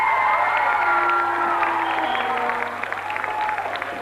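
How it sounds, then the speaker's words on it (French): An audience applauds and cheers for a professor at a live event, a loud wash of clapping with whoops and shouts that thins slightly toward the end. "On applaudit bien fort le professeur."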